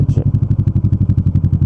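A motorcycle engine running close by with a fast, even pulsing throb and clattering mechanical tone, loud and continuous through a short stretch.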